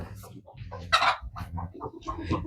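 Chickens cluck and murmur in short bursts close by, a busy string of soft clucks with one louder squawk.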